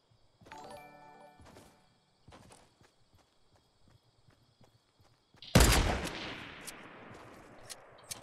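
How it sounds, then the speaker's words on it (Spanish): Fortnite video game gunfire: scattered light clicks and footstep-like taps, then a sudden loud burst of shots followed by a fading, noisy tail. "He disparado ahí y no le he dado a nadie."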